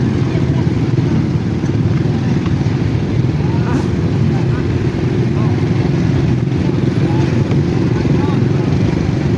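Motorcycles riding along a road, heard as a steady, loud engine and wind rumble that runs unbroken for the whole stretch with no clear gear changes or revs.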